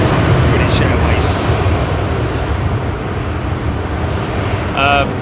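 British Airways airliner departing Heathrow runway 27R, a loud broadband jet roar close by with people talking briefly over it.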